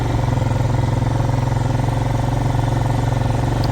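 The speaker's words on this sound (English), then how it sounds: "I'm on the four-wheeler right now." Four-wheeler ATV engine running steadily while riding down a road toward a corner store, a continuous droning hum at close range with no break in rhythm.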